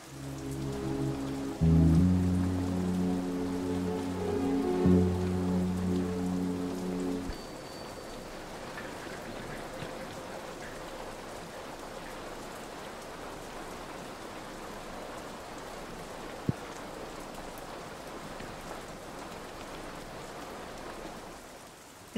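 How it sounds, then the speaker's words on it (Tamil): Rain falls steadily outdoors at night as a soft, even hiss that follows a few seconds of music, with one sharp tap partway through. "வெளியில மழை பெஞ்சிட்டு இருக்கு"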